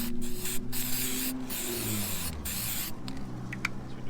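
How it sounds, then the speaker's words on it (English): Brake quiet aerosol sprayed onto brake pads of a Mercedes CLA 250 during brake work, several close hissing bursts separated by short gaps, with a low hum underneath. "what I always do on my brake pads is to put brake quiet on."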